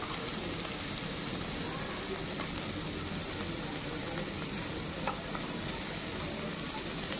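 Carrots frying in a hot pan for homemade chicken rice, a steady dense sizzle and crackle holding even and close throughout.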